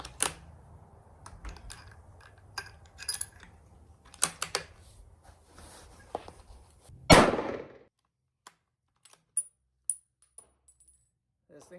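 A hunting rifle fires at a range, with one loud, sharp shot standing out among scattered clicks, clinks and small knocks of handling before and after.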